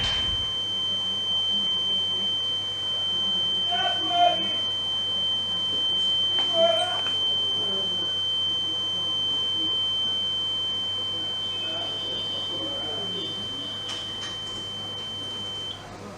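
Reconditioned smoke detector heads being tested, giving faint, thin electronic tones with a couple of brief chirps around the middle and a steady high whine, set against a low constant hum in a quiet room.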